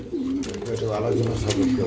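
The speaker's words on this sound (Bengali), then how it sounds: "ইরানি কবুতর না মার্শাল্লাহ খুবই চমৎকার" Iranian pigeons cooing close by, a few soft low rolling coos over about two seconds, with a voice talking over them.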